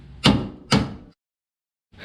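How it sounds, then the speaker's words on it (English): Two sharp, heavy metallic knocks about half a second apart as a hammer bends a metal tab on a 1996 Mustang GTS front bumper support, close by, followed by silence and then another faint knock starting at the end. "I'm going to go ahead and knock that over with a hammer."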